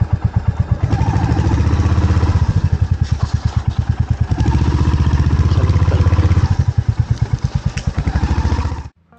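A Royal Enfield Hunter 350 single-cylinder motorcycle thumps loudly and closely at low revs on a narrow off-road forest trail, its rhythmic beat rising and falling with some clatter before cutting out at the end.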